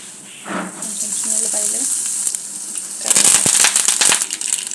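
Oil sizzles and crackles steadily, then bursts into louder popping and spattering as tempering spices are dropped into the hot pan; a brief murmur of voice early on.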